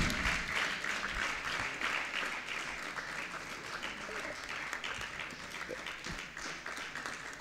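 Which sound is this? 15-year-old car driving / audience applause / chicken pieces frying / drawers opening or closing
audience applause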